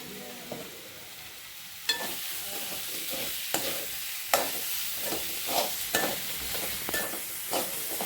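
Onion and coconut sautéing in a hot pan with dried red chillies and chilli powder for spicy chutney, a steady sizzle broken by several sharp spoon scrapes and stirs.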